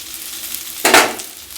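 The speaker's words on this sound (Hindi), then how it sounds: "तो इसे फ्राई करते समय आँच को हमें एकदम धीमा रखना है।" Banana curry frying in a pan over a very low flame, a soft steady sizzle swelling into a brief louder burst of spattering near the middle as pieces are turned, then settling back to a quiet hiss.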